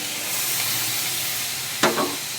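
Boiled peas tipped into hot masala sizzling in a kadai for ghugni, a steady close frying hiss with a sudden splash and clatter near the end as the peas go in.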